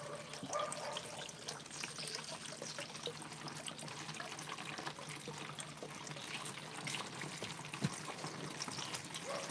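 Grape juice squirting and trickling from a fruit press into a jug, a steady liquid splashing and pouring that runs continuously and close by, with no talk.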